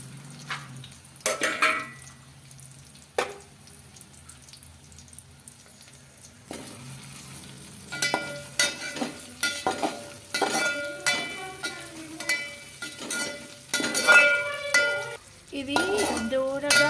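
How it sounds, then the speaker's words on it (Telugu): Green chillies and onion frying in oil in a wok-style pan while making upma, with metal spoon clanks, scraping and stirring, bursts of sizzle and a brief running tap, close and intermittent. "ఇప్పుడు మళ్ళా అదే బాండీలో నూనె పోసుకొని పచ్చిమిర్చి ఉల్లిగడ్డ వేయాలి"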